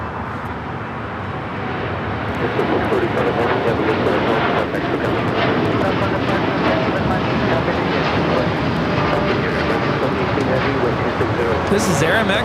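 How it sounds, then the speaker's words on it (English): An Aeromexico Boeing 787-9 Dreamliner takes off at LAX, bound for Mexico City, its broad jet roar rising after a couple of seconds and holding steady and loud, with people talking over it. "This is Air Mexico 647 taking off to Mexico City on the 787-9 Dreamliner."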